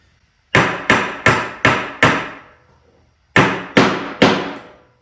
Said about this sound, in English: Could use a pin nailer too, but just gonna nail that one in there.